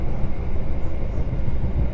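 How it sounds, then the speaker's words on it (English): The Argo Bromo Anggrek train runs at speed in Indonesia, giving a steady, dense low rumble with continuous wheel and track roar heard from inside the carriage. "This train is way faster than the train we had earlier"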